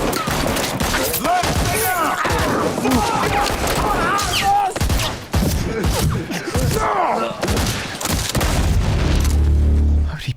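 Gunshots and heavy impacts from the action film Hotel Artemis, a dense run of booms and thuds at close range, mixed with shouting voices and score throughout.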